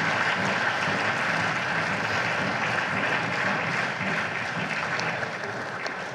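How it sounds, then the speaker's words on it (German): Sustained applause fills a state parliament chamber during a debate in the Landtag of North Rhine-Westphalia, dense and steady throughout, easing slightly toward the end. "auch wenn Sie jetzt viel Applaus bekommen haben"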